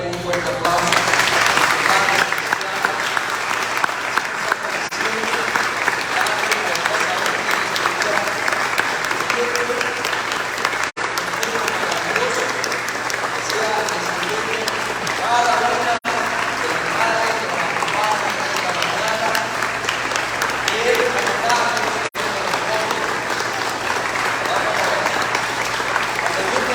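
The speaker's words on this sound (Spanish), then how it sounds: "Vamos a darle un fuerte aplauso." A church congregation claps loudly and continuously for a long stretch at a Sunday Mother's Day service, steady applause filling the space with some voices mixed in.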